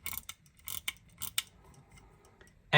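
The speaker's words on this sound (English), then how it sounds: "And in this position, you can actually wind the watch. And you can also hear it wind." Vintage mechanical pocket watch being wound, giving a series of faint, close, crisp ratcheting clicks in irregular bursts, then quiet ticking.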